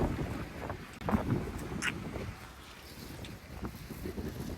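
Wind gusts roar and buffet the microphone outdoors near a river bridge in the Western Ghats, a steady low rumble throughout with a stronger burst around the first second.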